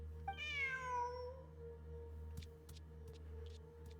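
A cat in a video game gives a single drawn-out, rising-then-falling meow early on, followed by faint clicks and soft chirps over a low steady background hum.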